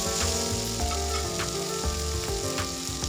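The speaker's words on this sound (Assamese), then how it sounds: "এয়া ধৰক ফ্ৰাই হ'ব ধৰিছে মাংস।" Pork meat fries in a pan for a traditional Assamese and Boro pork dish with lai xaak, giving a steady, close sizzle with clicks of stirring throughout and no talking.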